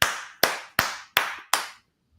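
Five sharp hand claps at a steady, slightly quickening rhythm, each ringing briefly before the next, then silence; clear and close with no talking.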